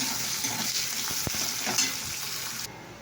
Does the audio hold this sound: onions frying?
yes